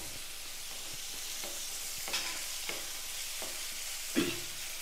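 Onions and garlic sauté in a pan for a chutney, giving a soft steady sizzle broken by a few light stirring scrapes.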